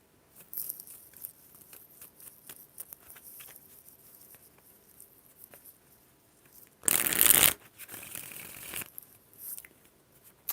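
Tarot clarifier cards are handled quietly with soft flicks and taps, then shuffled in a brief, loud riffle and drawn with a short papery rustle, close up and alone.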